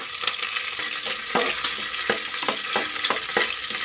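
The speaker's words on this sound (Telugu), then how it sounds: "కడాయిలో కొంచెం నూనె వేసాను కొంచెం ఆవాలు పట్లాడుతున్నాయి" Mustard seeds crackling in hot oil in a kadai while a radish sambar is prepared, giving a dense, loud, steady sizzle with a rapid series of sharp pops close by and no speech.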